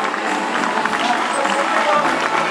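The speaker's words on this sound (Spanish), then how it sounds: "Fuerte el aplauso." Audience applause at a children's and seniors' royal coronation during the Misantla Carnival, a dense steady wash of clapping and crowd noise that holds evenly loud throughout.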